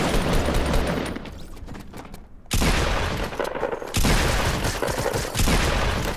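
Rapid, loud bursts of gunfire from a gun in the video game Fortnite Mobile, several sustained volleys separated by brief pauses, close and dominant with no talking.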